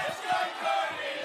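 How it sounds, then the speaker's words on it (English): Crowd in an MMA arena roaring for fighter Cody Haddon, a loud sustained wash of cheering and shouting in a short burst. "You can hear the crowd going for Cody Haddon. Absolutely, very loud."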